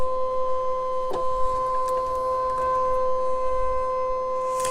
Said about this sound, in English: we're going to hit scan, but this time we're going to scan to cut data and hit start